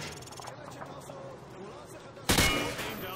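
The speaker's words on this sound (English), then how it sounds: "Turn around and fire at the target." Rifle fire at a target range in Modern Warfare 2, a sudden loud burst of rapid shots near the end, following a stretch of quieter background sound and talk.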